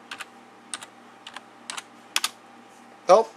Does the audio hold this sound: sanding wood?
no